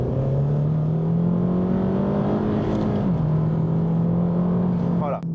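A Honda sports car drives along a mountain road, its engine holding a steady, loud drone that rises gradually, then dips briefly with a shift before settling again, heard from inside the car.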